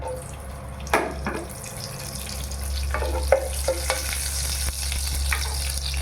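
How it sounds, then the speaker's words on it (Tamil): Whole green cardamom pods sizzle in hot ghee in a pan, a steady frying hiss with a few clicks and scrapes of stirring, close and continuous with no one talking. "நெய் ஊற்றினது ஒரு 6 ஏலக்காவை முழுசாக போடணும்."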